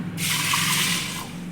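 Water pours in a steady, close stream into a pressure cooker holding washed dal, a broad continuous splash lasting about a second before tapering off, with no talk over it.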